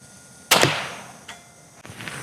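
A Grimburg Gavle 1.5 CO2 less-lethal launcher fires one sharp, loud pneumatic crack at close range, then gives a fainter knock and a final thump as the projectile hits.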